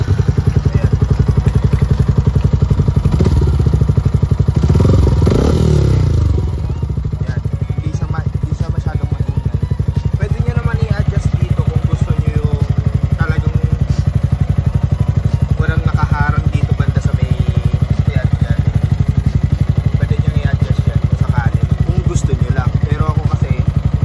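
A motorcycle with an MVR1 adjustable-sound alloy exhaust pipe runs at a steady, moderately loud idle throughout, with clattery thumps early on and someone talking over the engine.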